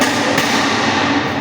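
Loud, dense metallic hammering on a steel cable tray during fabrication, a continuous close clatter filling the moment.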